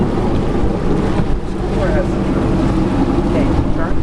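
A motorboat runs on open water, its engine a loud, steady low drone mixed with rushing wind buffeting the microphone and faint water noise throughout.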